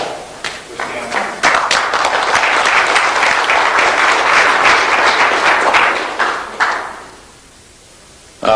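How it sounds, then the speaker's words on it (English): Loud audience applause for inventor Stanley Meyer at a 1997 Denver event, a dense sustained wash of clapping for about seven seconds before fading to quiet. "Please let's give a round of applause for Stanley."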